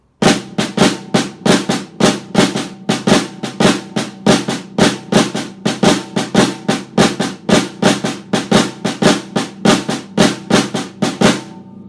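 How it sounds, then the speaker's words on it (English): A snare drum carries a fast, continuous cascara pattern in sixteenth notes, with flammed rumba clave accents layered in, a dense, driving stream of close, crisp strokes with no pauses. "So I'm going to play the Coskata pattern on the snare drum with my right hand."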